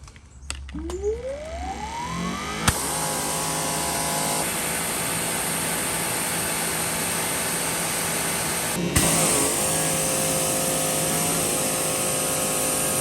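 A Greenworks Pro 3000 psi pressure washer starts with a rising whine, then runs at a steady, loud motor drone with a constant hum. A brief dip and restart comes partway through as pressure builds, and no one speaks.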